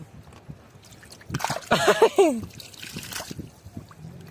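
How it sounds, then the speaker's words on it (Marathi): Mud crabs thrashing in shallow water, throwing up a short burst of splashes and sloshing near the middle, with voices nearby over quieter trickling. "पाणी उडवतात बघा कसे"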